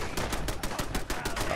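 Rapid gunshots in Fallout 4 Far Harbor, a fast, even string of about a dozen sharp reports in a row, loud and continuous throughout the short burst.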